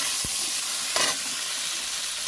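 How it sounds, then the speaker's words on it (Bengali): Okra sizzles steadily in a pan seasoned with turmeric and salt, a soft continuous frying hiss with a brief stir or scrape near the start and another around the one-second mark, no voices. "এই দেখুন ঢেঁড়সগুলো ভাজা হচ্ছে ভালো করে"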